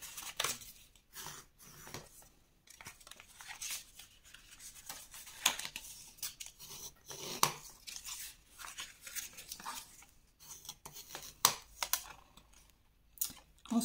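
Paper being scored along fold lines for a scrapbooking advent calendar, a series of short scraping and rubbing strokes, close and fairly quiet, with brief pauses between strokes and no talking.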